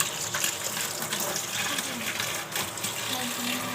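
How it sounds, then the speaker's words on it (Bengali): Running water splashes steadily as grass is rinsed clean, a continuous close gush with a faint tonal trickle under it and no talking. "আমার ছেলের ঘাসগুলো একটু ধুয়ে দিচ্ছে।"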